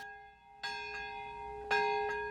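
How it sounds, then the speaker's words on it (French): Church bells ring at the Nagasaki atomic bomb memorial ceremony, two clear strikes about a second apart with long sustained, shimmering overtones that linger between hits, heard alone without talk. "Des sons de cloche à 11h52, puis le temps s'arrête sur Nagasaki durant 1 minute."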